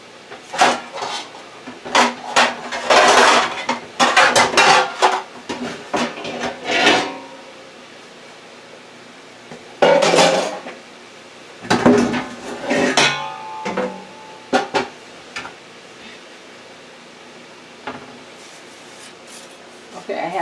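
Metal pots and pans clatter in a home kitchen as a cooking pan is pulled out, with a series of loud, close clanks and knocks in bursts and a person talking between them.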